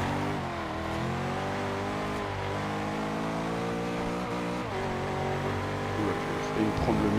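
A Bugatti Veyron's engine drones loud and steady while racing in the Forza Horizon 2 video game, its pitch dipping and climbing through gear changes, with faint tire noise underneath.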